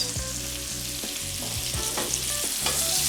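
Wagyu steak sizzles loudly in a hot pan while being basted, steady frying crackle broken by repeated spoon scrapes and clinks against the pan.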